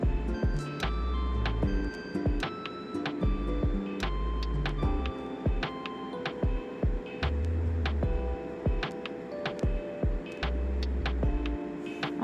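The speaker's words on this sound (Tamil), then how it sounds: "அப்படியே படிமான தையல் போட்டுக்கலாம்" A sewing machine stitches a boat neck blouse, its needle ticking in a fast steady mechanical rhythm with a low motor hum, close and fairly quiet, with no talking.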